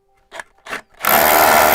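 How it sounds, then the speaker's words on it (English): A power drill bites into a concrete wall in one loud, sustained burst after two brief thuds, close up and with no talking. "All we're going to do is get the drill in and just give it a quick pulse."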